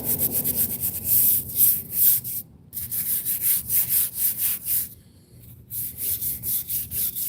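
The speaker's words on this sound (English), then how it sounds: "Just kind of scrub the back, the front, because we're trying to break up all the for instance, whatever this is, algae, mold." A brush scrubs a veteran's stone headstone to break up algae and mold, steady back-and-forth strokes in a fast rhythm, close and fairly loud, with one brief pause.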